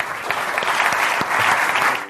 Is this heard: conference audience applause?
yes